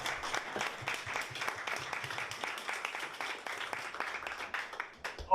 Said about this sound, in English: another round of applause for István.